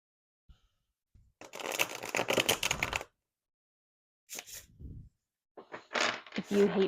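Bursts of crisp fluttering riffles as tarot cards are riffle shuffled, one long and two shorter, separated by quiet pauses, recorded up close.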